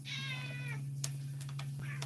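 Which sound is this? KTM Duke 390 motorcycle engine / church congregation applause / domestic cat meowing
domestic cat meowing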